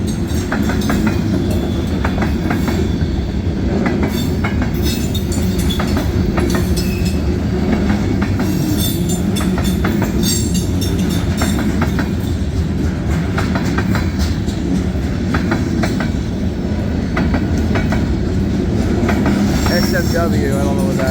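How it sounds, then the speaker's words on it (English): CSX freight cars, led by locomotive 1776 "Spirit of our Armed Forces," roll past close by with a loud, continuous clickety-clack of wheels over rail joints and occasional squeals, while voices talk beneath. "that clickety clack sounds pretty good"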